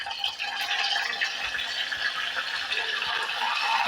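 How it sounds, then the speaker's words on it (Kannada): Tomato tipped into browned onions frying in a pan, giving a steady close sizzle with a brief rattle at the start and no talk. "ನಾನು ಒಂದು ಟೊಮೊಟೊ ಹಾಕ್ತಾಯಿದ್ದೀನಿ."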